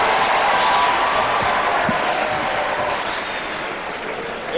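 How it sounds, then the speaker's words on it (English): Audience applause and crowd noise at a formal event attended by the President, honouring a performed piece; a dense, steady wash of clapping that fills the whole stretch and eases off slightly toward the end. "Another round of applause for Otongolo Time."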